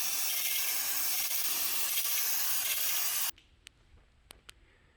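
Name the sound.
spraying brake cleaner on drum brake shoes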